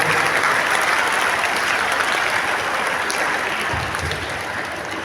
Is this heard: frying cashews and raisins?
no